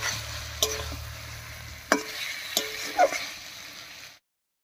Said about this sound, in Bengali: মশলার সঙ্গে মুখিটাকেও কষিয়ে নেব।